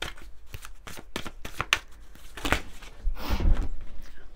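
Oracle cards shuffled by hand, a run of crisp riffling flutters and soft slaps at close range that builds into a denser, louder shuffle near the end, with no voices.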